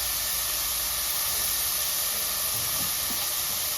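Curry leaves hit hot oil while ivy gourd palya is being cooked, producing a loud, continuous hiss and sizzle that stays constant for a few seconds.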